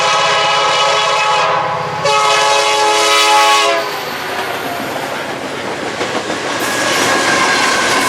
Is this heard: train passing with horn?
yes